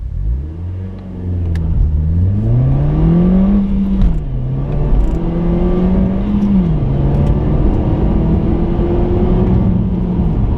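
A 2015 Nissan Juke Nismo RS accelerates hard with some wheel spin, its engine heard from inside the car as a loud, steady roar that climbs in pitch through gear changes over about ten seconds.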